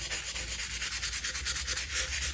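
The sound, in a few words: wet sanding resin geode with 800 grit wet or dry sandpaper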